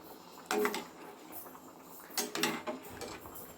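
Pasta payasam with coconut milk being stirred in a metal pot, giving two short bursts of utensil scraping and clinking against the pan, close and fairly quiet, with no talk.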